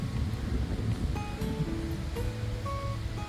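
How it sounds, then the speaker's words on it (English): Wind gusting outdoors over a house roof being stripped of shingles, a steady, full rushing roar that runs the whole time with faint higher chirps above it and no talking. "the wind just picked up"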